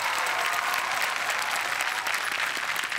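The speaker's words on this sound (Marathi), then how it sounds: "जोरदार टाळ्या." A studio audience at a Marathi comedy show claps loudly and continuously, a dense wash of applause filling the whole stretch.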